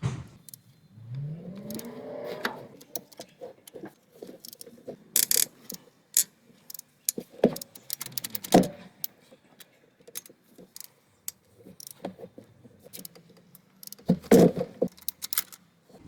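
Metallic clicks and ratcheting from a wrench loosening cylinder head bolts on a Toyota RAV4 engine, scattered, sharp and close, with quieter gaps between bursts.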